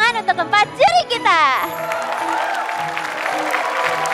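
An audience at an Indonesia's Got Talent magic show breaks into applause for the four judges, a sustained wash of clapping that follows a brief burst of speech from the stage.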